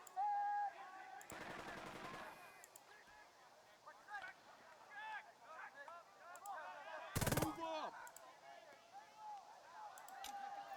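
Computer-game gunfire in a World War II tactical battle: a loud rattling burst of rifle and machine-gun shots, then another sharp volley later, with scattered single shots under someone talking throughout.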